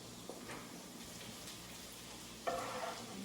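Sausages sizzle quietly in a pan alongside peppers and onions, a soft steady fry that swells louder near the end as they are stirred in.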